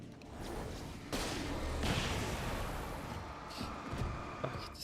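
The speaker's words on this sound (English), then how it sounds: "Or maybe I can just use the flare gun here." A flare gun fires in the game Alan Wake, with a sharp whooshing burst followed by a sustained hissing blaze and a few later cracks, fairly close, with no talking.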